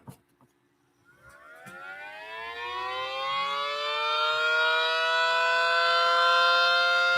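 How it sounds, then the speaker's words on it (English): A 3D-printed mini reverse-wired Banshee siren winds up into a rising wail after a couple of clicks, its pitch climbing and swelling louder before holding a steady, droning howl. "we built a Banshee, a reverse wired Banshee, but still a Banshee at that."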